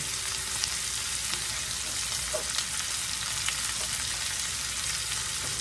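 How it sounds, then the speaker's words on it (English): Hash brown potatoes and onion fry in a pan, giving a steady, close, even sizzle that runs unbroken throughout with no voices. "Now let's get these hash brown potatoes going in here."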